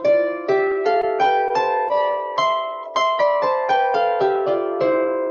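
Plucked harp notes climb step by step in a steady, unhurried one-octave scale in sixths, each note ringing and overlapping the next, clear and close with no voices.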